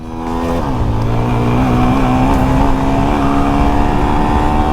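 A Honda Wave 110i motorcycle with stock quiet exhaust and an aftermarket ECU pulls hard in first gear, the engine note rising steadily and loudly up close for several seconds with no talk.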